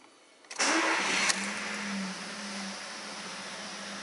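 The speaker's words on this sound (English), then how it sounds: "we first need to start the engine" A Seat Ibiza Cupra 1.4 TSI engine cranks and catches with a loud burst, then settles into a steady idle hum.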